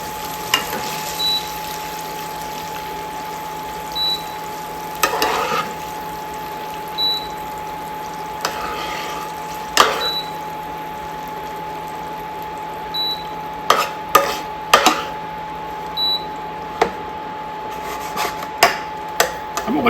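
A slotted spoon scrapes and scoops cooked ground beef out of a pan of drippings, with irregular scraping clicks and clinks spaced through a low steady kitchen hum, close and moderately loud, no talk.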